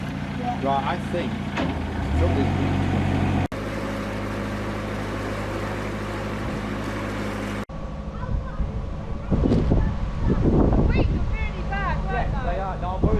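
Wind gusts rush steadily past a narrowboat while cruising, a loud broadband roar across the microphone, with people talking over it and a brief cut midway.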